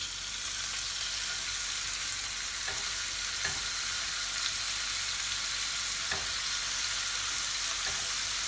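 Beef sears in a frying pan with a steady, even sizzle throughout, broken by a few faint clicks, close and moderately loud with no talking.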